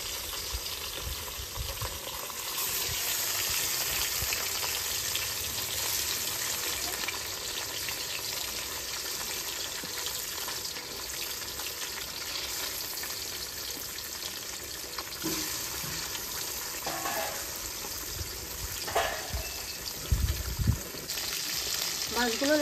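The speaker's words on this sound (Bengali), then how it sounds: "তেলটা গরম হয়ে গেছে, এবার আমি মাছগুলো আস্তে আস্তে ছেড়ে দেবো।" Pieces of catla fish slid one by one into hot oil crackle and fry with a continuous hissing sizzle, joined near the end by a few light clinks.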